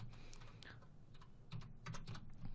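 Quiet, steady tapping of keys on a computer keyboard as a name is typed in, a run of soft clicks with a few louder strokes near the end, heard alone without speech.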